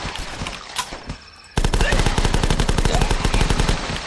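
Gunfire from the zombie-shooting video game The Last Stand: after quieter game ambience, a loud, rapid, steady burst of automatic shots runs for several seconds, close and dominant.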